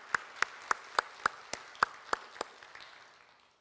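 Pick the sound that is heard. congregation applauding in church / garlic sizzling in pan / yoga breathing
congregation applauding in church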